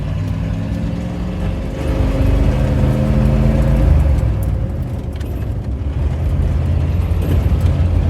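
A 1971 Highboy truck engine pulls hard in third gear, a loud close rumbling drone whose pitch climbs steadily and then levels into a sustained roar, with no voices over it.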